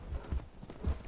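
Horse hooves clip-clop in the video game Skyrim, a few quick, close, thudding steps.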